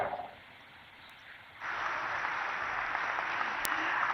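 Applause from an audience after an address by India's Prime Minister Narendra Modi, starting faint and then swelling into steady, sustained clapping from a large crowd.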